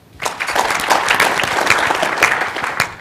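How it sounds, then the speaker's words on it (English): Warm applause from a business summit audience during a supply chain panel session, a steady crowd clapping that rises quickly and holds at an even level for a few seconds without speech. "we have a warm round of applause from our audience"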